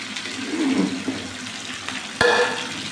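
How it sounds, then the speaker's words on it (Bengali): Pasta boiling in a pot of water on a home stove, with a soft bubbling churn and a sharp metallic clank from the pot partway through. "এদিকে পাস্তা সিদ্ধ হয়ে যাচ্ছে।"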